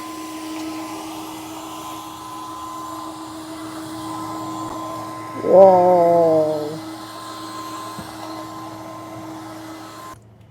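A Dreame H13 Flex Reach wet and dry vacuum cleaner hums steadily with a constant tonal whine while cleaning corners, and a brief rising exclamation cuts across the motor sound midway.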